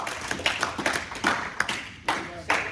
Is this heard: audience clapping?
yes